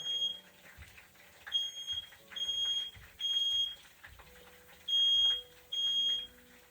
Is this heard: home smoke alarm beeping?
yes